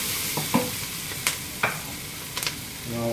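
Garlic cloves fry in a pot for borscht, giving a low sizzle broken by a few clattering stirs of a utensil against the pot, with no one speaking.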